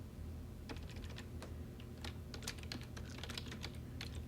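Close, quiet typing on a computer keyboard, irregular bursts of key clicks at a brisk pace over a low background hum, with no voices.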